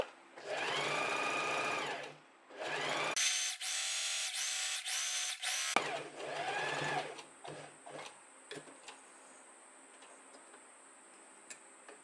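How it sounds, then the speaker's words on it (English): A sewing machine stitches close to the edge of dress fabric in a few close, steady runs of rapid mechanical chatter, with a short ticking stretch between runs, then settles into faint clicks and quiet. "this way I'm sewing closer to the edge of the fabric"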